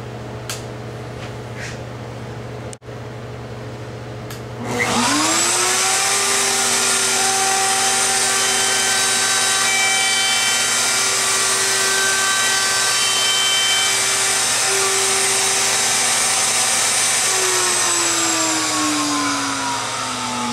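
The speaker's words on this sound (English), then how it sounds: "I've got everything set up to do the 1/4 inch roundover on the edge" A wood router cutting a 1/4 inch roundover bead along the edge of a carved French Provincial style wooden apron spins up after a few quiet seconds, then holds a loud, steady high whine that drops slightly near the end.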